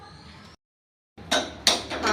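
A cooking pot set down in a home kitchen, a couple of short metallic clanks after a brief silence, close and fairly quiet.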